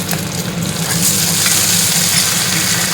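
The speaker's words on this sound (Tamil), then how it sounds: "கருவேப்பிலை போடுறேன்" Curry leaves hitting hot oil for a banana flower stir-fry, producing a loud, dense and steady crackling sizzle close by with no talk.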